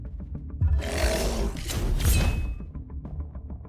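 A creature in the card game Duelyst lets out a loud, close roar that swells and fades over a few seconds, set against soft rhythmic game music.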